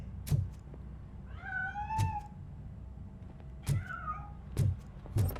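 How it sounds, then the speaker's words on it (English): Two drawn-out cat meows in a video game, with a clear rising-falling pitch, separated by sharp clicks and soft thumps, with no talking. "That cat must be hiding inside."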